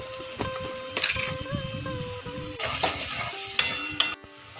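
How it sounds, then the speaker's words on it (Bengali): Spices fry in a pan with a soft sizzle, broken by scraping and metallic clinks of a utensil stirring against the pan. Everything is close and there is no talk. "মশলা ভাজা হয়ে গিয়েছে"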